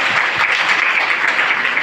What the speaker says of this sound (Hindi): एक बार अपने लिए ताली बजा दीजिए